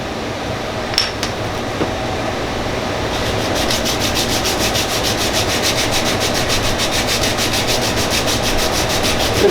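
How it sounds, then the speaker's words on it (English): Machine sanding on a marble tic-tac-toe board: a steady abrasive rubbing with a few light clinks at the start, then a rapid, even buzzing grind that carries on close and fairly loud. "Just give it a little sanding."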